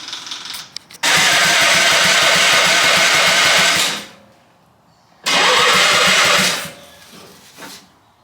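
A half-scale NASCAR race car engine cranks and catches in two loud bursts of sputtering, rough running, each lasting a few seconds before cutting out, with a quiet gap and a faint tail at the end.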